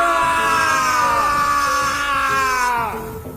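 A man's long, high wailing scream echoes and slowly falls in pitch before fading, a loud horror-story sound effect heard alone.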